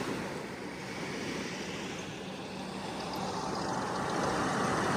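Steady roar of Atlantic surf at a Montauk beach in New York, a broad continuous wash of breaking waves swelling slightly louder toward the end, with some wind noise.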